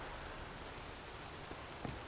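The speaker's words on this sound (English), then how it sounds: "If it don't stop raining, my ass'll rot off." Steady, soft rain hiss in The Witcher 3: Wild Hunt, a constant wash of falling drops with a few faint patters, no talk over it.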